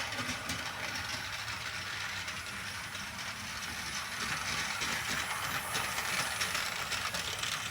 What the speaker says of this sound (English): as the train runs, you're going to see a fresh trail of glow-in-the-dark behind the train